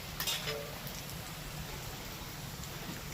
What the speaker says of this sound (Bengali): এইবার ম্যারিনেট করা চিকেনটা দিয়ে দেবো